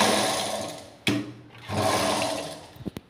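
Sewing machine stitching a binding strip onto fabric in a tailoring class, running in two steady whirring bursts with a short pause between, ending with a few quick clicks and taps, no talk.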